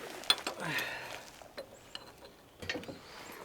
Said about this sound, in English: I just need to take this bolt out.